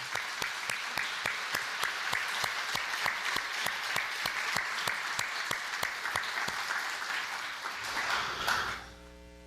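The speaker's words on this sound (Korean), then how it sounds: "그냥 앉아 계신 대로 한번 크게 격려의 박수해 주시기 바랍니다." A church congregation claps in sustained applause of encouragement for the elders, dense and steady with a few sharper claps standing out, then cutting off abruptly near the end.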